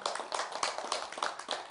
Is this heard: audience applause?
yes